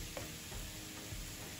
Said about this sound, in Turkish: Kavurma işlemine devam ediyorum.